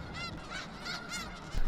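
Snow geese honk in a nasal, repeated chorus from a wintering flock, several overlapping calls close together, with a low thump at the end.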